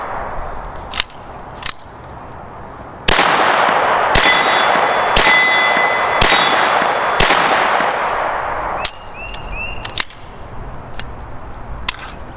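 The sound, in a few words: gunshots from Sig 22 kit firing Winchester M22 .22 ammo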